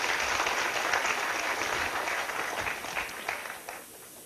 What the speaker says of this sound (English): that's a round of applause for that